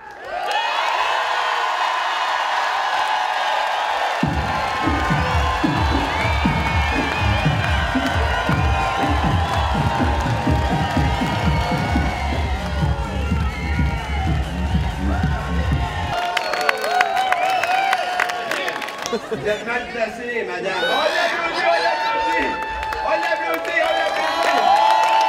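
Outdoor stage at a comedy festival in Alma, with a large crowd cheering, whooping and clapping loudly, followed by a steady pounding beat for several seconds before the noise breaks into looser shouts and scattered voices.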